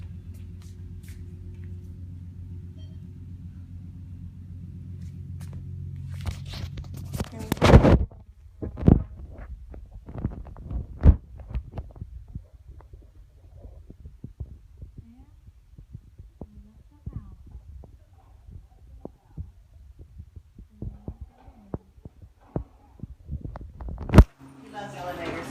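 An elevator's steady low hum during a ride, constant at first, then giving way to bumps and knocks while voices speak over it.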